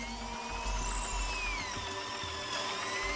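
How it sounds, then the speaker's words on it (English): A hammer drill bores into hard rock at a Tibetan cave site, giving a steady, loud, continuous grinding whine with a rattling low rumble that stays constant throughout, with no voices over it. "Do you have the hammer drill function on, too, by the way?"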